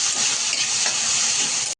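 Tomato chutney with red chili powder and salt sautéing in a pot, a steady close sizzle that continues alone and then cuts off abruptly.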